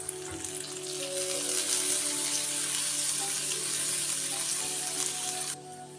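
Onions sauté in a pan for a kuzhambu, a steady, gentle sizzle and crackle that carries on evenly, then softens near the end.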